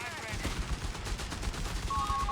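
Gunfire from a Vickers machine gun in the strategy game Company of Heroes 3, a dense, sustained clatter of battle sounds under faint background voices, with a brief tonal game alert near the end.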